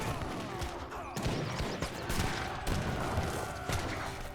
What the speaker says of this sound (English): More leather cannons explode on out.